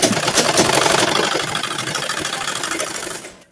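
A sewing machine runs in a fast, steady burst of stitching on burqa fabric, close and clear, then slows and stops after a few seconds.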